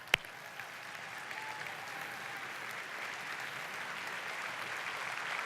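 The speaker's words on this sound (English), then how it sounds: "Dr. Hyman, Dr. Amen, would you give them a round of applause, guys, so they come on out?" An audience at a large indoor rally claps steadily, sustained applause that swells slightly and carries on without a break after a sharp opening knock.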